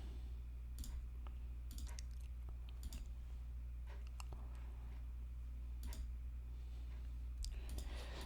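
A computer mouse clicking, with sparse sharp little clicks spaced irregularly over a low steady hum, near and faint, no voices.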